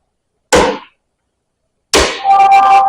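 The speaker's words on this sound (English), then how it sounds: "you're going to knock the head back. Okay, you don't want to hit the rod and ding it up, and so that's why we use a brass" Two sharp metallic clangs ring out as a hammer strikes a brass drift to knock a stuck cylinder head loose, separated by more than a second of silence, the second blow ringing on.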